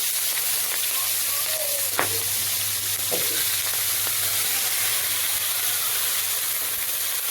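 Vegetables fry steadily in hot oil in a pan, a loud continuous sizzle with occasional sharper crackles and taps, and no voices over it.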